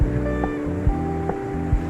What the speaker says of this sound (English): And the pot bubbling.